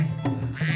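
A cartoon duck lets out a short, nasal, close quack lasting under a second, clear and fairly loud.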